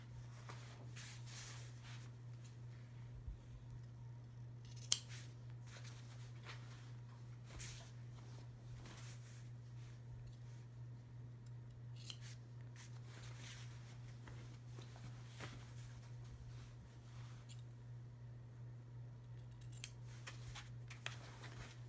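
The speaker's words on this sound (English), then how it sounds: "I'm going to cut a triangle without cutting the seam." Scissors snip through cushion cover fabric at the corners, cutting small triangles near the seam; faint, scattered cuts and a few sharper clicks over a steady low electrical hum, with no talking.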